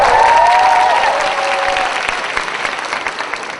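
Audience applause at a free talk concert: loud, dense clapping from a large crowd, with a brief cheer or whoop at the start, then steady and slowly easing.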